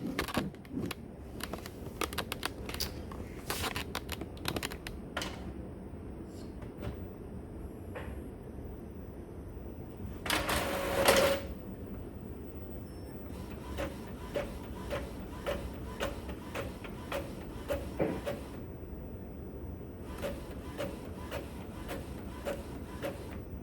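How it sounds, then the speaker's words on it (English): A printer prints Avery template cards in color, producing repeated mechanical clicks and feed rattles with a louder burst of motor whir midway, close and continuous over the whole stretch, without any talk. "Just make sure it's printing in color. Push print."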